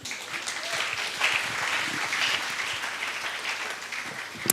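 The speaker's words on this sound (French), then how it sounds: "on acclame le Seigneur" A church congregation applauding during a Sunday worship service, a sustained patter of many hands clapping at a moderate distance, heard alone without speech.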